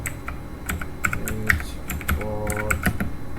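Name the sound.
typing switch commands on a computer keyboard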